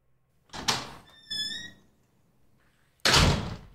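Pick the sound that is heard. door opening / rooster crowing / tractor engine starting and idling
door opening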